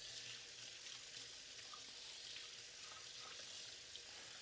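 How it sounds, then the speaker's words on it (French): Hands rinsed under a running kitchen tap after handling garlic for a chicken marinade, a steady broadband hiss of flowing water that holds at an even level throughout, with no voices. "on se rince la main"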